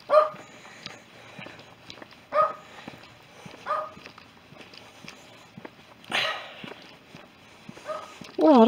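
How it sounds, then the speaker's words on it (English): A small dog barks in short, separated bursts during an outdoor walk near a golf course path, with footsteps and some background noise between the barks. "There's a little dog somewhere."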